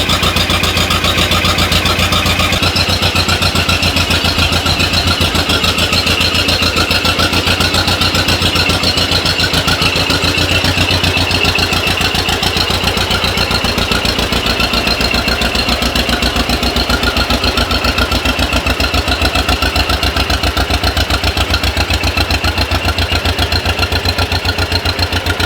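A tractor engine cold-starts on a snowy day, then settles into a steady, loud mid-pitched running drone with a constant rhythmic chug throughout, close by with no talking.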